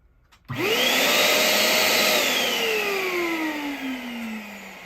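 A Mini Cool Air balloon inflator switches on abruptly and runs as a loud, steady whirring blower, its pitch slowly sagging over several seconds with no talking.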